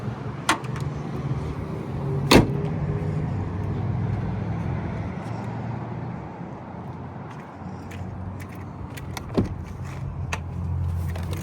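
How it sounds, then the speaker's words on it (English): A 2024 Ford F-250 King Ranch Tremor diesel engine idles with a steady low rumble, with a few sharp clicks and knocks on top and no talk. "Diesel motor."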